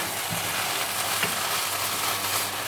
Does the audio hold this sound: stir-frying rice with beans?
yes